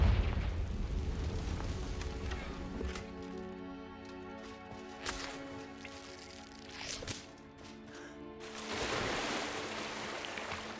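Confringo fire spell in Hogwarts Legacy bursting in a deep rumbling blast, with a couple of sharp cracks and a second roaring surge toward the end, loud and close.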